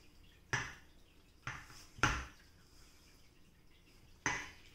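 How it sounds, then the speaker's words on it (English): A spatula folding blueberry muffin batter in a mixing bowl, four sharp scraping knocks against the bowl spaced irregularly over a few seconds, each fading quickly. "So now we're gonna use a spatula to fold it in and mix it in."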